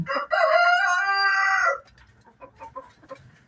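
A Dekal Brown rooster in a breeder cage lets out one loud, close crow lasting over a second, followed by soft scattered clucks and small farmyard noises.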